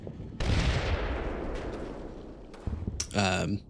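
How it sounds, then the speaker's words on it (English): Mortar rounds striking a tree line in the WWII strategy game Combat Mission Final Blitzkrieg, a loud rumbling blast that decays slowly, followed by smaller thuds and a short sharp crack near the end. "Still hitting the tree line with lots of mortars"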